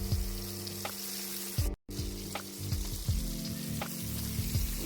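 Jerk-seasoned fish frying in a pan, a steady loud sizzle with bubbling crackle and brief scraping, interrupted for a moment by a short gap, with no talk.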